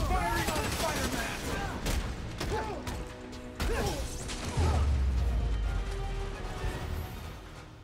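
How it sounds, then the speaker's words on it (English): Enemy gunfire aimed at Spider-Man during a combat mission in Spider-Man: Miles Morales, a busy mix of shots, impacts and clanking mechanisms, with game voices speaking over it and a heavy low rumble near the middle. "He's firing on Spider-Man!"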